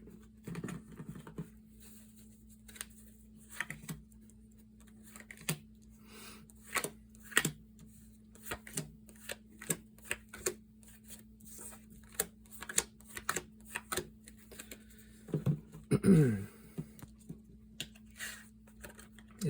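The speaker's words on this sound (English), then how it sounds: "Cut the cards in three." Tarot cards being shuffled and cut into three piles, a soft, quiet patter of card riffles and taps in irregular bursts close to the microphone, with no talking.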